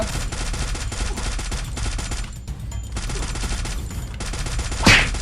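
M4 assault rifle fire in the battle-royale game Free Fire: loud, steady rapid bursts of automatic shots, briefly broken by a short gap, with a sharp closer report near the end.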